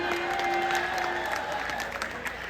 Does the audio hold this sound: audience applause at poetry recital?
yes